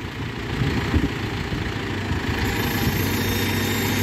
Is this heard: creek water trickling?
no